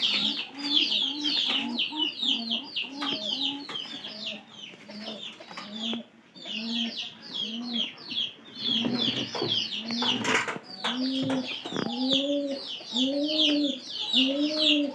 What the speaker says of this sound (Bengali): এই যে এই কবুতর খালি কবুতর পাড়ি ডাকলো